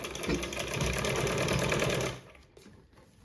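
A sewing machine stitches a blouse neck cross piece in a quick, loud run of rapid needle strokes that lasts about two seconds and then stops, leaving only faint room noise.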